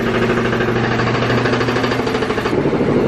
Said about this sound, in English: Damn compressor just started without any warning.